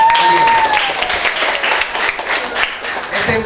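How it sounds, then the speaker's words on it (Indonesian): Loud, close applause from a crowd of middle school student council members at a state defense training session at SMPN 1 Lamongan, Indonesia, with dense, continuous clapping throughout. "Tepuk tangan untuk kalian."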